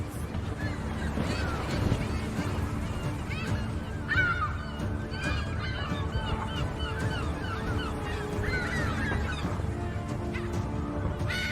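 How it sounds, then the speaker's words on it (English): Loud, harsh yellow-legged gull calls overlap in a noisy colony in Iberia, squawks and yelps rising and falling continuously against a constant background rumble. "yellow-legged gulls, notoriously aggressive, territorial, and brave"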